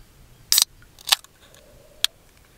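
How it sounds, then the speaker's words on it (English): A can of Capital Brewing Co. Rockhopper IPA is cracked open outdoors at a bush campsite, with a couple of sharp close clicks and hisses in quick succession, then a lighter snap after a short pause. "time to crack this open. So today I've got a Capital Brewing Co. Rockhopper IPA."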